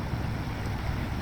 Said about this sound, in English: Engine sounds and little creaks from this older rig.